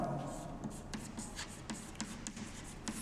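Pen scratching on paper while notes are written, a steady run of small rhythmic strokes and taps, quiet and close, with no talk.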